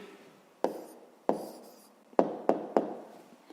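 A pen writes an answer to a fifth-grade maths exercise, giving five sharp, distinct taps or strokes at irregular intervals, close and quiet against a near-silent background.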